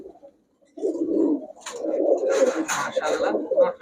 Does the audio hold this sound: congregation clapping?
no